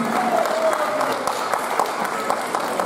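Audience applause at a celebration of a singer's 55-year artistic career, a steady, dense wash of clapping that holds throughout while a voice speaks over it.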